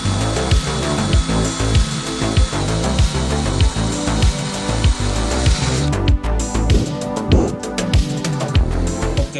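A drill bit working slowly through a part for a Tamiya Globe Liner 1:14 scale RC truck, giving a steady whirring grind cut by repeated short bursts, close and fairly loud, with the pulses growing choppier toward the end.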